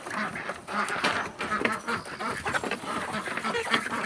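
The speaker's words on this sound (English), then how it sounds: "We hear the ducks, definitely." Backyard ducks quack continuously in a busy, overlapping chorus, loud and close, with no one speaking.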